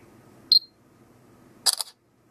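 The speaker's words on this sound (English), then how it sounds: "I was going to say very quick shutter" A Samsung Galaxy Note 3 smartphone camera takes an HDR photo: one short electronic shutter beep, then after a pause a quick cluster of several shutter clicks, close and fairly quiet over faint background hiss.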